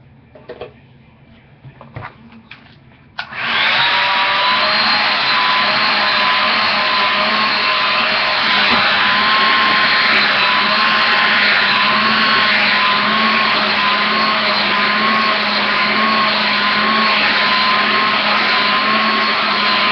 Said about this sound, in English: So I'm gonna go ahead and dry my hair.